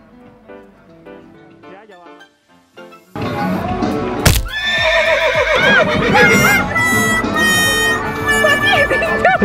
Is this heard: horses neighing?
yes